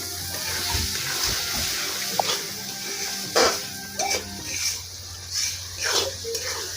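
Mung lentils are stirred into a fried spice paste for a prawn-head malaikari, with wet sizzling, scraping stirs and soft sloshing at irregular intervals; a voice talks at times.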